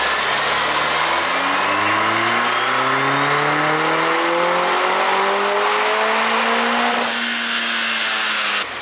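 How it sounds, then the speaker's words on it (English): A factory-stock Lotus Emira sports car revving on a dynamometer: a loud engine climbs steadily in pitch through one long wide-open pull for about seven seconds, then the tone drops briefly before holding steady, with no voices. "This is a completely stock run on a Lotus Emira."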